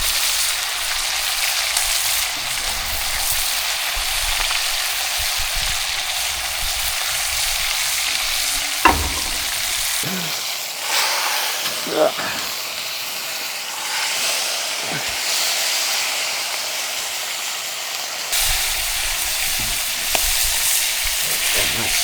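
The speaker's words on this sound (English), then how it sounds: "Flip it over to the other side now. Again, you're trying to get a good sear on there before you slow cook it." An elk shoulder roast sears in a hot pan with a loud, steady hiss and sizzle, interrupted midway by flipping and handling clatter before the full sizzle returns.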